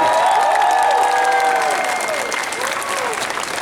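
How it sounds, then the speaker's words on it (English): A convention crowd at Stan Lee's Comikaze Expo 2013 applauds voice actor Tara Strong, loud, sustained clapping with some cheering, while a few voices and whistle-like tones carry over the top. "give her a round of applause"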